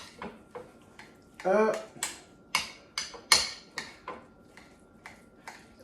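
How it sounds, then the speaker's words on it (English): A utensil stirs mayo into egg salad, knocking against the bowl in a series of sharp, ringing clinks about every half second, with one brief spoken word. "we're going to put a dollop of mayo in there. And then we're going to give that a nice stir"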